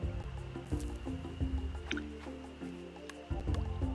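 Watering crops in the farming video game Roots of Pacha: soft, wet splashing and dripping plays over a steady background music bed, with a few short bright droplet sounds near and moderately quiet.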